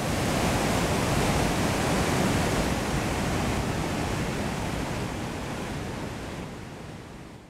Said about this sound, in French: La chute de Ouiachiouane, celle qui a donné naissance au village de Val-Jalbert, haute de 72 mètres